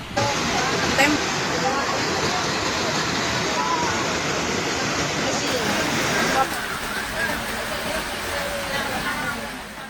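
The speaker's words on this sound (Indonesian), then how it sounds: "Kebanjiran masuk sekarang positif besar sekali dari Sungai Lubawang" Floodwater from the Lubawang river pours in during severe coastal flooding in Situbondo, a loud, continuous broadband rush with no break across the whole stretch, easing slightly toward the end.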